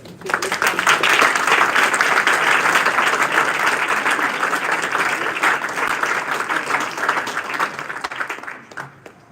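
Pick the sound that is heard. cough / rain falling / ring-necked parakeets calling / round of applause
round of applause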